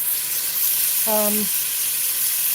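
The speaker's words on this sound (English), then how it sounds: "get a good pan fry on this so that it has a good brown gravy" Cubed beef skirt steak pan frying over medium-high heat, a steady soft sizzle and hiss running throughout, interrupted briefly by a short tonal squeak partway through.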